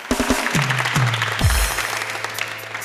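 A studio audience on a talk show applauds, a steady broadband clatter. Several deep, falling electronic sweeps from a sound effect cut through it early on.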